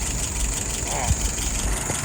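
A car engine with a freshly rebuilt throttle, new bushings and shaft, idles steadily around 680 rpm, a continuous low hum with a faint knock under it, close by while someone talks over it.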